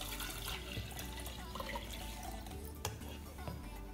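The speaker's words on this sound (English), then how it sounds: "our first step for the tornado is to pour water into the jar." Water poured into a jar as the first step of a tornado-in-a-jar craft, a steady continuous splashing stream lasting several seconds at close range with no talk over it.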